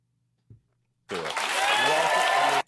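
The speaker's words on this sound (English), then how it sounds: "Now he's saying this, and people are clapping." A crowd bursts into applause after a brief thump, many hands clapping loudly and steadily before it cuts off.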